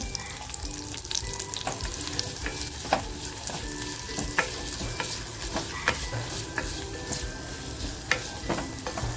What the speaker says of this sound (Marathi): तेल छान तापलेलं आहे कांदा जो कापून घेतला तो कांदा टाकते